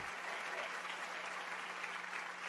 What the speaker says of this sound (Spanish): Dale un aplauso más al Señor.